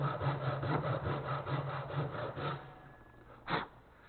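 Hand saw cutting wood in a hand-tool workshop, a close series of rhythmic rasping back-and-forth strokes that stop, then one final short scrape after a pause.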